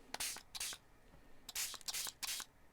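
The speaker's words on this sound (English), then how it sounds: "the magic happens when you spray it with water" A spray bottle mists water onto a watercolour painting in several short, breathy bursts, some in quick pairs, heard close but quiet, with brief pauses between them and no talk.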